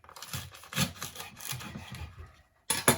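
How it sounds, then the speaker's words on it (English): A knife trims the tops off leeks on a kitchen board while making leek and potato soup, giving a series of short rasping cuts followed by a brief pause and a final sharper chop. "we're going to start preparing the leeks. As I said before, we just trim the top bits here."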